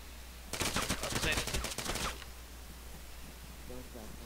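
Rapid rifle fire in a close-quarters combat training killhouse, a dense burst of sharp, loud cracks lasting about a second and a half, followed by quieter background and a faint voice.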